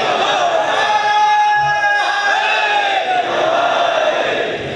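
A large audience at a Muharram majlis in Sargodha chanting a slogan back in unison, loud and sustained with many voices blending together.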